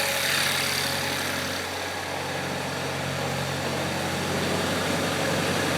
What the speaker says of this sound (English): It's asking us to run the engine at idle speed